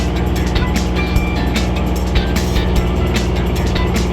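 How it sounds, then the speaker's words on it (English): A Gator utility vehicle drives at a dig park near Pigeon Forge, Tennessee, its motor droning steadily and loudly throughout with a few brief bumps and clatters over the top. "You're driving the Gator."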